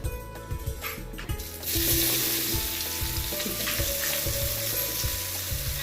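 Onions frying loudly in a pan, a dense steady sizzle that swells suddenly partway through as they hit the hot oil, with low rhythmic thumps of stirring beneath and no talk.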